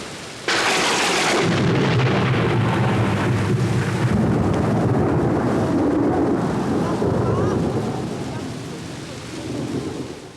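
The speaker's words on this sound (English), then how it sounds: "The people are afraid of the thunder." Heavy thunder rolls through a rainstorm in the Kalahari, a loud crack opening into a long, rumbling boom that slowly fades against steady rain and wind buffeting the microphone.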